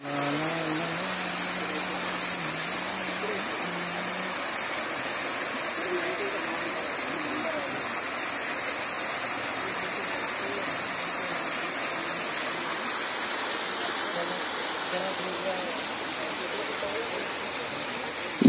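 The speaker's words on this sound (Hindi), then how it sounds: "यहाँ पर देख सकते हैं एक झरना लगा हुआ है" A waterfall at the Sita Samadhi Sthal temple rushes in a constant, dense wash of falling water, close and steady, with faint humming tones in the background.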